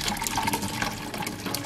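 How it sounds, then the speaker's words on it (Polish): Water drained off boiled, overcooked pumpkin splashes and gushes in a brief, close pour, steady for under two seconds with no speech. "Będę trochę odlewać wody z tego."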